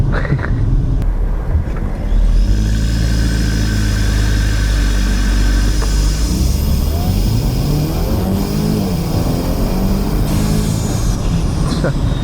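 Audi A4 B9 turbo engine with a cold air intake launching from a stop, loud and close from inside the car, a steady engine drone that climbs in pitch as the car pulls away.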